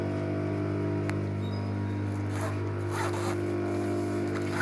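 A zipper slider is run along the zip of a sewn cartoon-character school bag pocket, giving a soft close rasp over a steady mechanical hum, with no talking.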